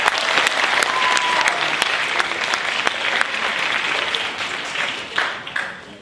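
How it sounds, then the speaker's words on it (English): A school audience at a TEDx event gives a round of applause, loud, dense crowd clapping with sharp individual claps that holds steady and then tapers off near the end. "Quick round of applause."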